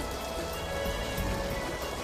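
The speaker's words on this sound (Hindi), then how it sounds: "अरे बारिश" Steady rain falls outdoors on a surface, a continuous even hiss with no pause, close and moderately loud, with no talking over it.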